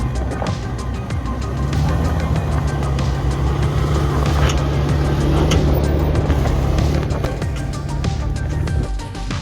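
An off-road truck with upgraded suspension and twin lockers climbs a rock step on a backcountry British Columbia trail, its engine a steady, loud, close drone with a constant low hum and rough texture throughout.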